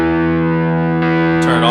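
An electric guitar chord sustains through a Rat distortion pedal in an HX Stomp with the filter turned up, a thick, muffled, buzzing drone that swells and shifts near the end as the strings are touched again.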